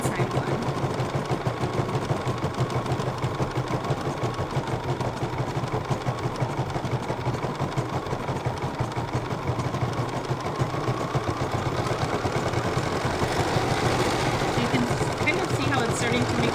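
An embroidery machine stitches out a design with a rapid, steady mechanical chatter that runs unbroken and fairly loud, with voices talking faintly over it.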